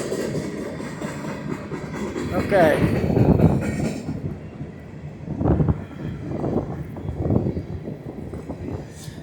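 A long train rolls past continuously with rumbling and clattering wagons. A brief squeal is audible near the start. A person speaks once in the middle.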